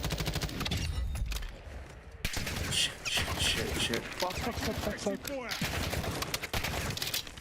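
Gunfire in the Call of Duty Black Ops 6 video game, rapid bursts and scattered shots crackling through the scene with short pauses, while a player swears and talks over the action.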